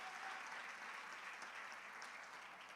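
A church congregation claps together in a steady, dense burst of applause, heard somewhat distantly and quietly for a few seconds.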